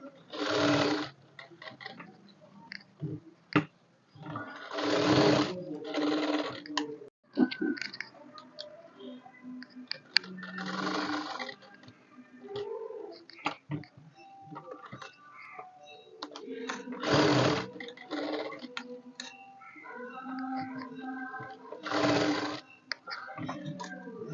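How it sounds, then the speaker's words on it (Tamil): A sewing machine runs a rough basting stitch along a marked line on fabric, in several quick mechanical bursts of rapid ticking stitches separated by pauses, with a person talking in between. "இந்த கோடு போட்டு வச்சுருக்கிற இடத்துல ரஃப்பாக ஒரு தையல் போடணும்"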